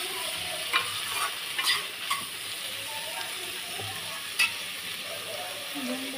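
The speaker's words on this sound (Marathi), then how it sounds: "सगळ्या भाज्या ना परतून घ्यायच्या मऊ होईपर्यंत" Mixed vegetables are sautéed in a pan until soft, with a steady sizzle of frying under occasional spoon or spatula scrapes and clinks.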